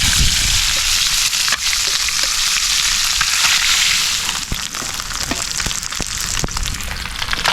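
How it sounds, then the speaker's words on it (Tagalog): Karabas fish fry in a pan of hot oil, giving a loud, steady sizzle with crackling pops and occasional sharp spatters close by, without talk. "Huling batch ng ating prito."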